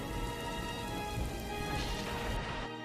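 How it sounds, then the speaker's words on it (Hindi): Steady rain falls continuously, a dense even hiss of drops hitting surfaces that stays loud and unbroken throughout, with no voices. "2-3 दिन और बीत गए और बारिश का सिलसिला लगातार जारी रहा"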